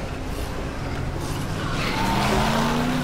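An off-road car drives through the zombie video game Dead Island, its engine droning loudly up close while tires skid and squeal, with pitch rising toward the end.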